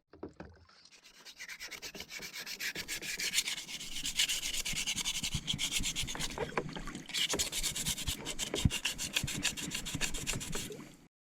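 Sanding a motorcycle fairing bracket from a ZXR 250 by hand, a steady close-up abrasive rubbing that runs continuously and loudly for about ten seconds with short rhythmic strokes and no talking.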